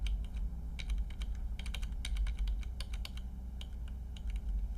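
Fingers type on a computer keyboard in quick uneven bursts of sharp clicks, close and clear over a low steady hum, with no one speaking.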